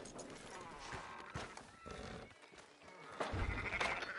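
Sheep bleat in the video game Red Dead Redemption 2 over a busy background of hoof clatter and movement, fairly faint and somewhat distant.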